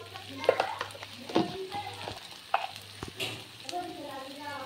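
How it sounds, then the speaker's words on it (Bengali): Onion and garlic frying with turmeric in a pan for Bengali aloo dum: a soft, steady sizzle broken by repeated scraping clicks of stirring and occasional sharper knocks, close by. "আলুর দমের জন্য পেঁয়াজ রসুন খুব ভালো করে ভেজে নিতে হবে"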